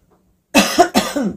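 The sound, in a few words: cough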